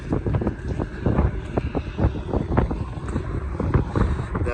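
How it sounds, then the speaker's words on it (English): Strong wind buffets the microphone outdoors beside a 2018 Shelby GT350, a loud continuous rumbling roar with gusting surges and no break for the whole stretch. "It's crazy windy right now"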